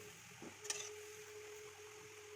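Mung dal pithe frying slowly in oil over a low flame, a faint, steady sizzle with a light clink of a utensil near the start and no talking.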